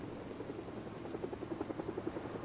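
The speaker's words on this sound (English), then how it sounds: "So helicopter's still flying around" A helicopter flies around in the Running Scared video game, its rotor thumping in a steady rhythm that grows stronger and more distinct partway through, over a constant engine drone.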